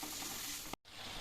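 Spice masala frying in a pan for a meat curry, a close, continuous sizzle with a brief silent gap before the hiss picks up again.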